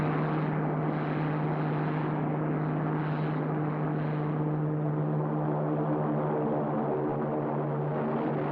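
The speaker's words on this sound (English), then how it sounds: "The orbit jet is in the process of landing." Steady droning engine roar of a 1950s sci-fi TV orbit jet spaceship landing, a constant humming whine that holds at even loudness throughout, like a propeller aircraft, with no talk.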